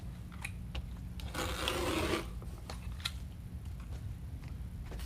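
Green deco mesh in multiple shades being cut into 20-inch lengths, a brief dense rasping snip burst rising over steady low background hum, with faint clicks before and after.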